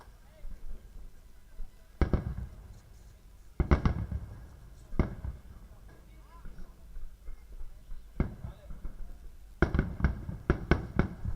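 Firecrackers bursting in celebration at a night cricket match: scattered sharp bangs and short rapid clusters of pops at moderate distance, with commentators speaking between and over them.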